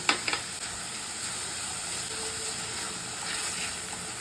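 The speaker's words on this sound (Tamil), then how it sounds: "தக்காளி நல்லா சாஃப்ட் ஆகிற வரைக்கும் வதக்கிக்கலாம்" Tomatoes sautéing with salt in a pan for soya bhurji give a steady, close sizzle with a few sharp crackles near the start, and no one speaks.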